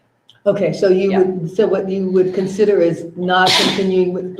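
A single short sneeze bursts out during a board meeting, cutting in over a person who keeps speaking steadily through it.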